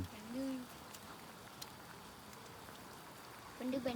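Steady, soft rain hisses throughout, with faint drops pattering; a few distant bird coos come through near the start and end.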